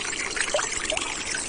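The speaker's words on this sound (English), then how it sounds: "Just a steady trickle of water coming through" Steady trickle of water running through an old canal tunnel, a continuous bright splashing and gurgling that stays even and close with no voices.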